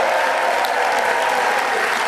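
Crowd at a live event cheers and claps loudly for a cheerleader contestant, a dense continuous roar of applause and voices filling the whole moment.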